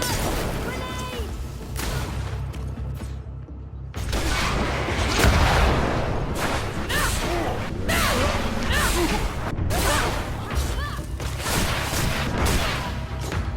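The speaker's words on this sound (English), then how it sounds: "Watch out! Grenade!" Grenade explosion in the video game Greedfall: a sudden loud burst partway through, followed by a sustained, noisy battle din that stays heavy to the end, preceded by quieter background action.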